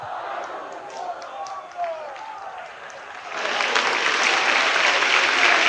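Church congregation clapping and praising in a Portuguese-language service, a dense wash of hand claps swelling louder in the second half, with a preacher's voice over it.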